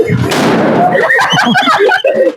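A loud, close firecracker blast bursts out at once during Diwali, followed by crackling and excited voices reacting right afterward.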